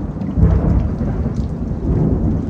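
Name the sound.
thunder rumbling during a storm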